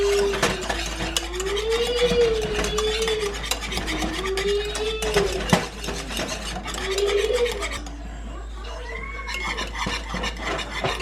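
A mixture stirred constantly in a pot brought back to a boil, with continuous scraping and clinking of a utensil against the pot close up and a steady hum underneath, no talk.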